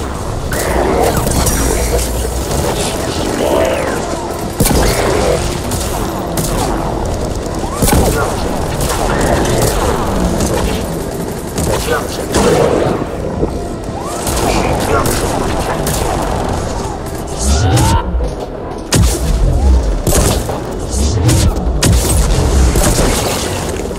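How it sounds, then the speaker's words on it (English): Missiles launch and explode in Mass Effect 3, a run of heavy booms and rumbling blasts over a continuous battle din, loud and close, with voices talking intermittently. "Missiles are hot. Missiles away."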